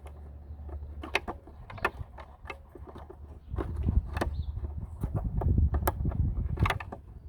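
Plastic taillight assembly of a 2012–2018 Ford Focus being pushed back into place, with a series of close plastic clicks, knocks and scraping handling noises, irregular and building in busyness toward the end.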